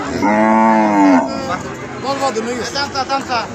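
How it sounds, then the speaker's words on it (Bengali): A cow lows loudly and close by at a village cattle market, one long drawn-out moo followed by shorter calls as people chatter in the background. "যে গিয়াসুদ্দিন ভাই আর একটা গরু দেখতেছে"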